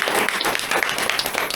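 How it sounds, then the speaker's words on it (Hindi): An audience at a Sunday DXN meeting in Vijaypur claps in a dense, loud burst of applause, steady and close for the brief moment. "मैं चाहूँगी कि मैम के लिए फिर से जोरदार ताली होनी चाहिए"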